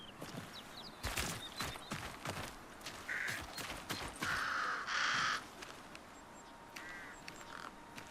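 Crows in a video game extraction shooter give several harsh caws, scattered and fairly close, over quiet outdoor ambience with a few hoof-like footsteps.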